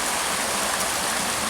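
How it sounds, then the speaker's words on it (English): A beck rushes through woodland, a dense, even hiss of flowing water that is close and continuous, with no voices. "I can't hear anything apart from the beautiful beck running behind me."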